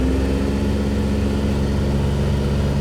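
The engine of a 56-year-old CJ5 Jeep runs in -31C cold and snow with a steady, close, low droning hum that holds even without clear rev changes, alone with no talking.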